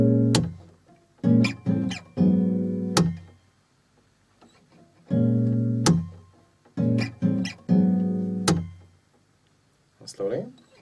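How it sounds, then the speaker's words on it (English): Acoustic guitar rhythm in a percussive pluck-and-slap pattern played twice, each round of sharp plucked notes and slaps followed by a long silent pause, close and clear. "stay after one round and do a pluck, slap, followed by a long pause"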